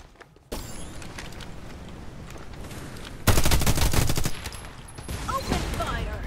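Gunfire in the video game Farlight 84 comes in loud, rapid automatic bursts, growing heavier partway through, with footsteps and game effects mixed in.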